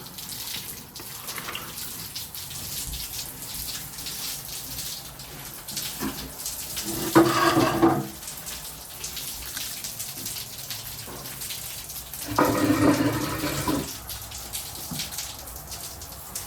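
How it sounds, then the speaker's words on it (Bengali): Soapy water drips and splashes off a balcony, a steady wet patter with two louder bursts of splashing partway through. "ব্যালকানির ওখানে পুরো একদম সেই সাবান জল পড়ছে"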